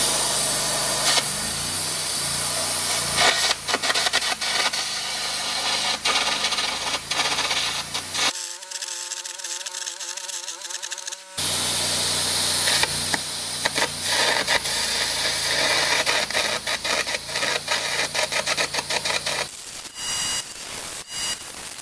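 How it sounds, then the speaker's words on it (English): Air-arc gouging into a cracked weld on a steel heavy haul trailer frame gives a loud, continuous harsh crackling hiss, close up, with a brief pause partway through and no talking. "Gouged a bit into this bottom weld, the flat weld."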